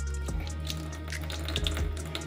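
Water running from a household tap at low pressure, a steady close hiss and gurgle of flow with faint splashing and no voices.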